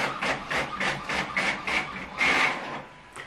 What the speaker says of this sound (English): And it turns out the printer's really loud.